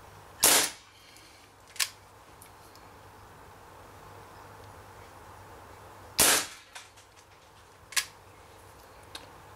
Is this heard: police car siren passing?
no